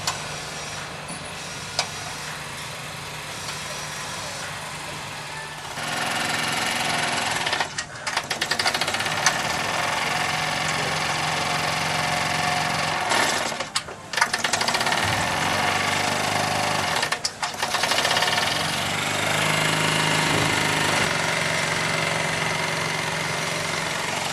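Wilesco model steam engines running on compressed air at final inspection, giving a steady, busy mechanical chatter with rapid rhythmic ticking that grows louder after a few seconds and continues with brief dips.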